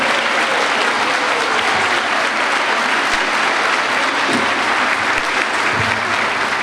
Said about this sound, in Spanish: les damos un aplauso de bienvenida.